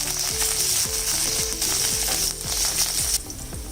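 Curry leaves hit hot oil with green chillies for bread upma, sending up a loud, steady sizzle and crackle close by, with repeated rhythmic scraping clicks from a spoon or pan throughout.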